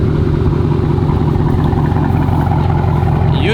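A straight-piped 2021 Dodge Charger 392 V8 idles nearby with a loud, steady, deep exhaust burble. The rumble stays even and unbroken, with no revving.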